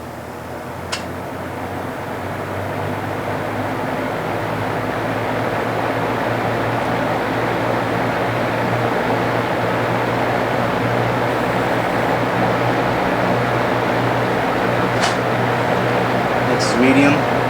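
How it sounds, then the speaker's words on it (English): A 1976 avocado green Lakewood P-223 electric fan starting up on low speed, a steady broadband whoosh with a low hum that builds gradually and stays constant. "first up is a 1976 avocado green Lakewood P-223. And I'll do a startup, and so we'll start it up on low."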